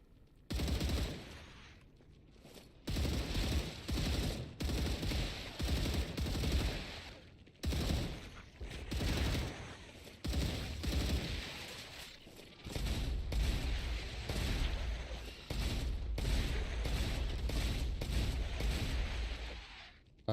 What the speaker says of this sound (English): I love that shotgun.